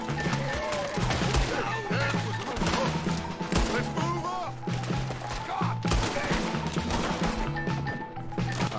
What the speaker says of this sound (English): Who are they shooting at back there?